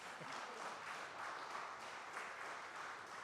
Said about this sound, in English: I thought I'd get the applause now before you got.